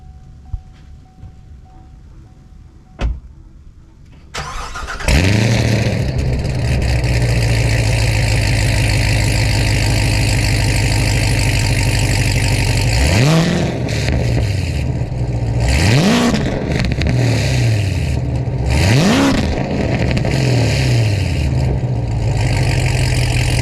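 A Corvette C7 ZR1 fitted with headers and an X pipe starts up with a sharp crank and bark, then settles into a loud, steady rumbling idle, broken by three strong revs that climb and fall, close by with no talking.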